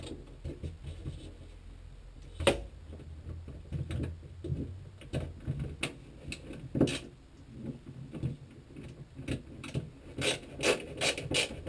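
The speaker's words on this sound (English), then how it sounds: "I'll just screw those down." Screws being driven by hand into a light switch plate inside a teardrop trailer build, giving irregular close scraping and rasping turns with small clicks, no talk.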